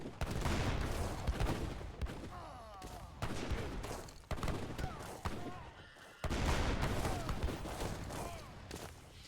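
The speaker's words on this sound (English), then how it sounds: "I'll never get bored of watching just artillery just wail on absolutely any unit" Artillery fire battering units in a naval-themed war game, heavy rolling bursts of blasts and rattling shots that arrive in dense waves separated by brief lulls, loud and close with a booming low end.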